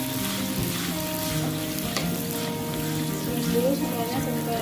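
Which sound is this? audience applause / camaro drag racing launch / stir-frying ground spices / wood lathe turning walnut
stir-frying ground spices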